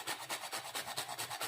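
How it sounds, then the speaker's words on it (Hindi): Nutmeg scraped against a grater for spiced jaggery, a quick, regular series of close, dry rasping strokes, about a dozen in rapid rhythm. "जायफल को घिस के डालेंगे,"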